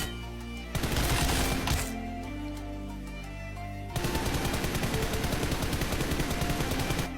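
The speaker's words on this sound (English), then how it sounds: "Make sure you are able to do precise burst sprays, as well as continuous sprays." Automatic weapon fire in PUBG Mobile on a practice map: a short burst spray of rapid shots, a pause, then a long continuous spray of fast, evenly spaced rounds, loud and close.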